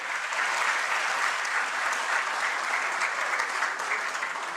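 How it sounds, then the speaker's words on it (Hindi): Sustained applause from an audience at a live award ceremony honouring a lifetime achievement award recipient, dense and even throughout, with no voices over it. "खुल के ताली बजाएं इनके लिए।"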